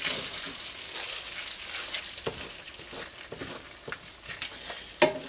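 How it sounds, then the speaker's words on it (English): Thick stuffed-shell filling stirred in a cast iron pan, a steady scraping and faint sizzle running throughout with a few sharper spoon knocks, close and moderately loud with no talking. "starting to really get hard to stir here"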